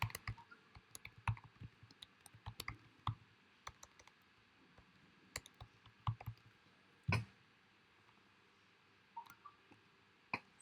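A computer keyboard is typed on in irregular bursts of soft, close clicks, with a few sharper taps and brief pauses, while a phone number and email are entered in a Google Docs document.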